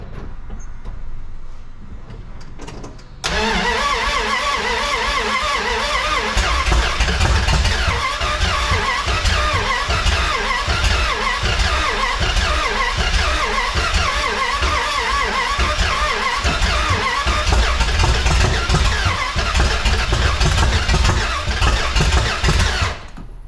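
The engine of a 1981 Dodge D150 pickup cranks and fires continuously and loudly for about twenty seconds, rough and uneven as it struggles to start, preceded by a few seconds of quieter background.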